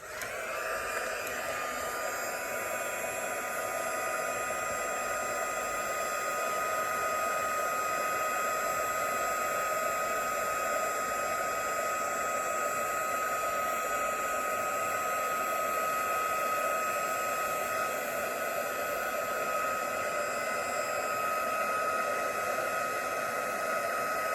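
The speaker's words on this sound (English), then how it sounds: "Going in with my clear gloss embossing powder, and I'm just going to heat that up." A heat tool blasts steadily to melt clear gloss embossing powder on a handmade card, a loud, even fan-driven whoosh that runs unbroken for the whole stretch with no talking.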